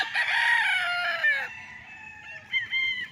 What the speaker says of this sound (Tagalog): At ang daming alagang manok.